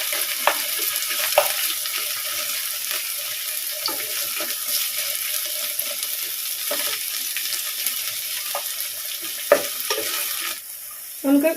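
Okra frying in a pan, a constant close sizzle with scattered stirring knocks and scrapes, and a brief quieter stretch near the end.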